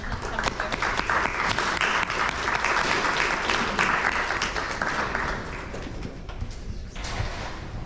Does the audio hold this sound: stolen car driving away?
no